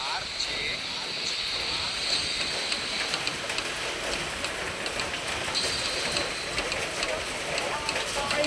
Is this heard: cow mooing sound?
no